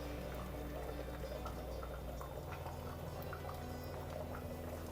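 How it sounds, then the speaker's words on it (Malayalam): Pumpkin curry in a roasted-coconut gravy boils in a pot, giving a steady, faint bubbling hiss throughout, with no talking. "നമ്മുടെ കറി നല്ല തിളച്ചേ."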